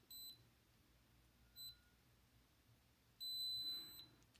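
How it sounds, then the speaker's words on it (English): Two short electronic beeps from a fingerprint lock are followed by one longer, sustained high beep, all fairly quiet with no talking. "A long beep."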